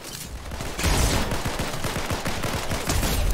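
Dense rapid gunfire in a Fortnite match, loud and sustained after a quieter start, with sharp repeated shots and no talk over it.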